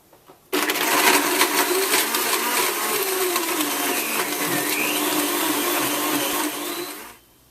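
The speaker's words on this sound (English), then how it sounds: "Blend this on high for 45 seconds" A countertop blender running on high whirs through a smoothie of fruit and ice, switching on abruptly into a loud, steady grinding roar with shifting motor pitch, then cutting off at the end.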